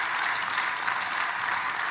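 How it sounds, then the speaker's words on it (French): Lawmakers in a parliament chamber applaud, a brief, dense wash of clapping at even volume throughout. "Là, ils ont applaudi."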